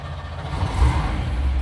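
A 1962 Chevrolet Bel Air's V8 engine idles with a steady, low rumble, continuously and close by, with no voices over it.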